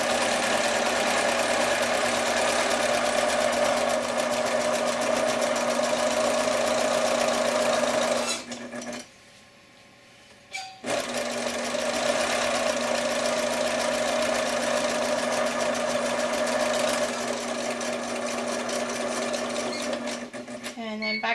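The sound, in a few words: sewing machine stitching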